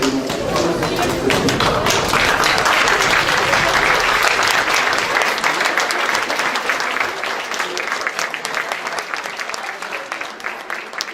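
A conference audience rises to give a guest sustained applause, a dense, steady clatter of many hands that holds strong for several seconds, then gradually thins and fades toward the end.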